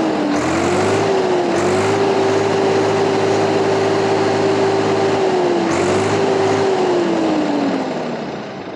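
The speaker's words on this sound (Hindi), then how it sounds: "आइए हम आपको इस ट्रैक्टर का साउंड और साथ में आरपीएम चेक कराते हैं" A 2023 Swaraj tractor engine runs steadily at close range, a loud continuous drone whose pitch rises slightly and then eases down toward the end.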